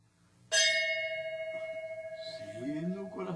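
A single bell is struck once, loud and close, its clear ringing tone sustaining and slowly pulsing as it decays, with a voice starting up near the end.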